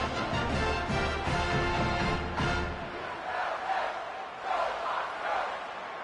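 A home crowd in the College Football 26 video game roars loudly for a few seconds, then the cheering eases into a softer, fading murmur.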